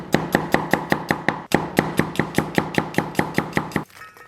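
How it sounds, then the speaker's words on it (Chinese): A knife chops ginger and garlic into small slices on a board, a steady run of about twenty crisp, evenly spaced cuts close by with one short pause, ending abruptly; no talk. "然后咱们姜也切成小片儿， 然后蒜也切成小片儿。"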